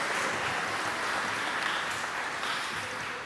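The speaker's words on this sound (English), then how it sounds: "let's give them a round of applause." A congregation applauds during a worship service, steady sustained clapping from many hands filling the room for a few seconds, dense and even, with no voices standing out.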